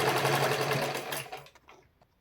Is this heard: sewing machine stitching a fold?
yes